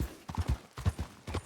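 A horse in a video game trots along with hooves clip-clopping in a regular, rhythmic beat, moderately quiet and close, with no talking over it.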